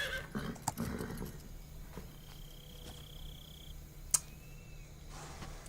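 A horse in the video game Metal Gear Solid 3 gives a thin, distant whinny amid quiet ambient game sound, with a couple of sharp isolated clicks and a brief high tone.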